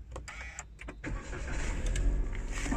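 A 2022 Toyota Raize GR Sport starts up, with a few clicks and a brief crank giving way to a steady, close engine idle that swells slightly, with no one speaking.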